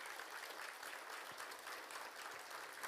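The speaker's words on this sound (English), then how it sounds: "Could we give them a round of applause, please?" Audience applause at a public safety awards ceremony, an even, moderately distant clapping from a seated crowd that holds steady throughout.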